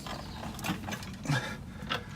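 A ratchet tightens the shock absorber bolt on a BMW E30 while lowering springs are fitted, giving three short bursts of clicking spaced about half a second apart, close and moderately loud over a steady background hum.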